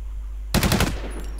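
A quick burst of rapid gunfire in the video game WarZ, loud and sharp, several shots in fast succession after a moment of quiet.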